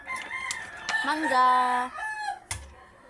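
A person imitates a crowing rooster with a drawn-out, cock-a-doodle-doo style call lasting about a second, close and fairly loud, with brief talking before and after.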